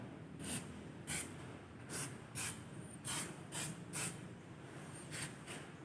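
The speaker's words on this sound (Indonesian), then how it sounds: "Setelah itu kita semprot dengan menggunakan brake fluid" Short hissing bursts of brake fluid sprayed onto a brake disc, about eight at irregular intervals, close and fairly quiet against a low background hum.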